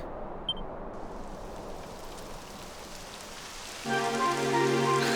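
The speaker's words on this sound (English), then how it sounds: "Typical. It would have to go and start raining, wouldn't it?" Steady video game rain patters and hisses on surfaces, then grows heavier and denser near the end, with no voices, in Dragon Quest XI.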